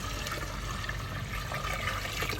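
Water poured into a pot for restaurant-style dal, a steady, fairly faint rushing and splashing stream that continues evenly throughout, with no talk.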